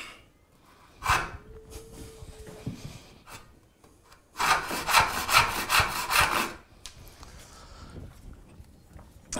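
A hand saw works through wood while a dovetail joint is cut by hand, irregular rasping strokes with one short scrape early on and a denser run of back-and-forth sawing in the middle, close and fairly quiet.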